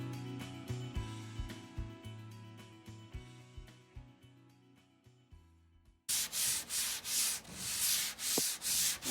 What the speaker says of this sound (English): we are done with the sanding with the electric one